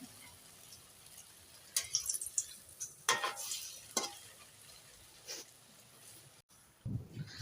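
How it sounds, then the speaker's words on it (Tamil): Bread samosas dropped into hot oil for deep-frying, giving bursts of crackling sizzle and bubbling with some scraping and handling knocks, fairly quiet overall. "இப்போ நம்ம செஞ்சு வச்சுருக்கிறது இதில் போட்டு பொரிச்சு எடுத்துக்கலாம்."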